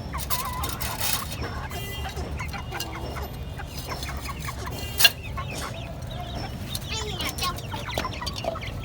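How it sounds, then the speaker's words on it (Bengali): Chickens and a rooster or two cluck over steady background noise while being fed, with many birds calling close by and a single sharp knock near the middle. "তো এখানে রাতা আছে হচ্ছে একটা দুইটা, আর বাকি সবই মুরগি।"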